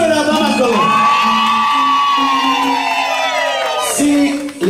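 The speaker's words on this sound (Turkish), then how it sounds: "Sizin en güzel gelini ve damat için bir kere bir kere bağırsın öyle adam akıllı." A wedding crowd in Dolni Chiflik, Bulgaria, whoops and cheers loudly for the bride and groom, sustained rising shouts and cries filling several seconds close by.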